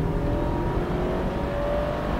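A Fiat 124 Spider MultiAir 140 hp Lusso Plus accelerates down a pit straight. The engine drone is loud and continuous from inside the car, with rising tonal whine, and no one speaks.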